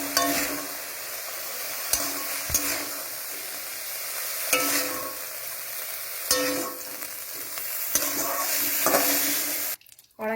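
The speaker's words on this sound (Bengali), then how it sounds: "দেখো মাংসগুলোকে ফ্রাই করা হয়ে গেছে" Chicken pieces fry in a wok for a ghugni dish: a continuous loud sizzle broken by regular scraping stirs, with a brief sharp drop in sound near the end.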